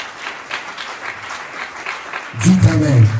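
A church congregation applauding to acclaim the Lord, with steady, rhythmic clapping from a crowd; a loud voice then speaks over the tail of the applause.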